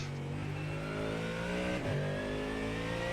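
A car engine on the Nürburgring drops down through the gears to first while braking hard, its tone sliding and blipping briefly before settling into a steady drone, heard alone.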